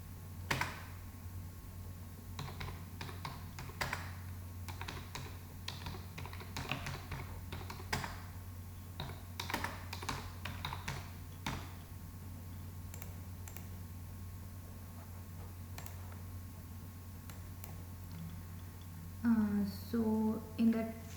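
Keys clatter on a computer keyboard in a steady run of close, fast taps through most of the stretch, with a voice speaking briefly near the end.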